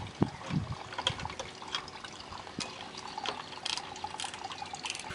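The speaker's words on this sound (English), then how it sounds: "as I'm draining this gas, I'll also check for fuel flow" Gasoline drains from the carburetor of an old Husqvarna lawn mower, a faint thin trickle and dribble with a few small knocks and clicks, quiet and close, no talk.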